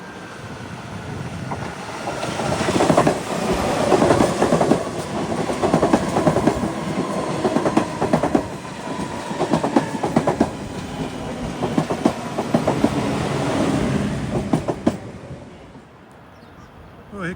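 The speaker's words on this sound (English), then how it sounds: "Here comes a Lindenwold-bound train arriving, headed east with 6 cars." A six-car PATCO train bound for Lindenwold rolls into Ferry Avenue station heading east, a loud rumble with rhythmic clickety-clack of wheels over rail joints that builds and then eases as it slows, with voices in the background.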